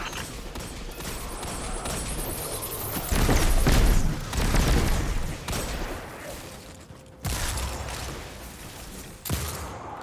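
A grenade blast in the shooter game Destiny 2, a loud booming burst in the middle of ongoing gunfire, with further shots and sharp impacts after it.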